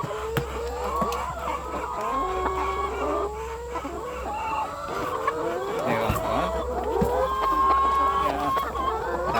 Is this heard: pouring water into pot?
no